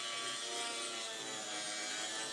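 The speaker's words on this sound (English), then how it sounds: "switched to a sanding bit to even out the edges" Continuous high-pitched whirring grind of a Dremel sanding bit smoothing the plastic edges of a DIY mini ITX computer case, steady and close, running without pause.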